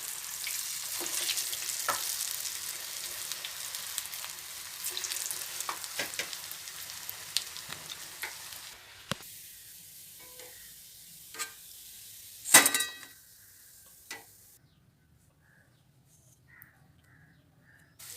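Cowpea bonda batter balls dropped into hot oil, a soft frying hiss with a few stirring clinks that thins out and fades toward quieter gaps, a crow cawing at one point.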